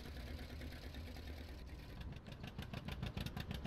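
A tractor engine in Farming Simulator 19 runs at a steady low idle, a continuous close rumble that picks up a rougher, more pulsing chug toward the end.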